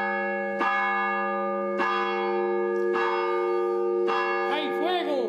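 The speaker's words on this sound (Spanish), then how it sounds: "Con 90 años toca como nadie las campanas de manera manual." Church bells rung by hand in Castañar de Ibor, Spain, ring out in a slow, regular series of five strikes about a second apart, each tone ringing on and overlapping the next.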